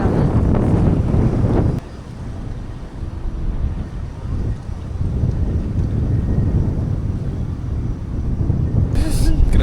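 Strong, cold wind in Tagaytay roars steadily against the microphone, a low rumbling buffeting that briefly drops then rises again, with voices speaking underneath.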